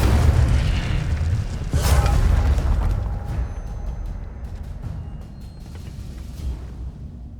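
The Incendio fire spell is cast in Hogwarts Legacy, a loud whooshing fiery burst that peaks near two seconds and then fades into a low rumbling tail, with no talk.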